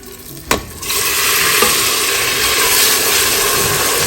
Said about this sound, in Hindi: अब मैं टमाटर जो है कटा हुआ वो डाल रही हूँ।